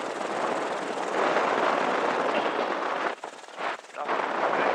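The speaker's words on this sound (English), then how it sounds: "Right gun, open fire." A UH-1Y Huey helicopter's door gun firing during an aerial gun shoot, a dense, continuous roar of automatic fire blended with rotor noise, with brief dips near the end and radio voices underneath.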